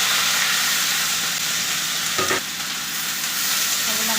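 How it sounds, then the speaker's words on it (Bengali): Chopped garlic, ginger, green chili and onion frying in hot oil for chilli paneer, with a loud, continuous close-up sizzle and a brief burst of stirring midway. "এবার আমি তেলটা দিয়েছি, এর মধ্যে রসুন কুচি দিলাম, আদা কুচি দিলাম, লঙ্কা কুচি দিলাম, এবার পেঁয়াজ দিয়ে দিলাম"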